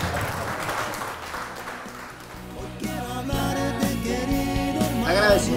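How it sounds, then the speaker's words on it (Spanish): A church congregation claps, the applause swelling from a soft patter into fuller clapping, with music playing alongside. "Un aplauso al Señor."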